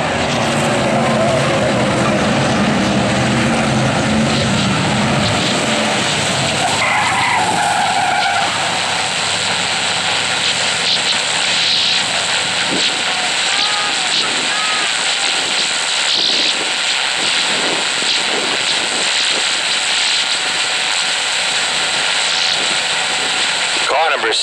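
Eight-cylinder enduro cars race and collide at Riverhead Raceway, New York, with loud continuous engine roar, tire squeals and impact clatter, while an announcer talks over the action throughout.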